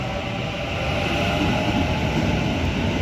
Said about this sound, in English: And Emu Plains service departing behind me.